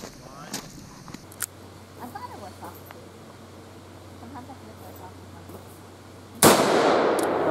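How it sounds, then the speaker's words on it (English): A Dan Wesson Supermag .357 Maximum revolver fires a single very loud, sharp shot at a lid near the end, after quiet handling clicks and a low hum. "I'm gonna try to shoot the lid off of this thing."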